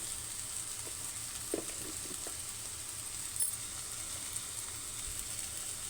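Chilli powder and masala are stirred into a carrot curry cooking in a pan, giving a soft, continuous sizzle with a few faint spoon scrapes and clinks against the pan.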